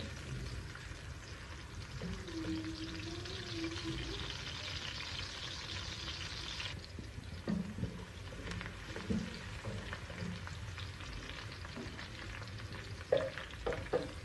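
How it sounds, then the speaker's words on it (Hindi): Chopped onion fries in hot oil for Pakistani street-style kari pakoras, a faint, steady hiss of sizzling with occasional soft stirring sounds, heard alone. "प्याज को मैं 1 से 2 मिनट तक फ्राई कर लूँगा।"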